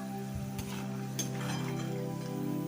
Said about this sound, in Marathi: बघा आपले शेंगदाणे भाजत आले